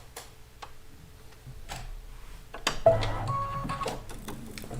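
Embroidery sewing machine stitching a placement stitch for a quilt block, with soft steady ticking at first, then a louder whirring stretch of rapid stitching close by and no talk.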